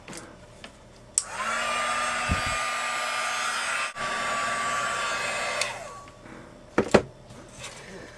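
A heat tool melting clear embossing powder on a card blows with a steady, loud hiss and whine for about four seconds after a click, framed by quieter handling knocks and taps.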